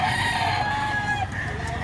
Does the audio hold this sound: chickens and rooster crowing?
yes